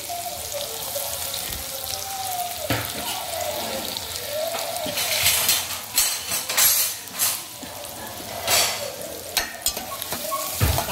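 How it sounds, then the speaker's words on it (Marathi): Sliced onions hit hot oil with garlic already in the pan, giving a loud, close, continuous sizzle and frying crackle with bursts of stirring and scraping. "आता कांदा घालूया।"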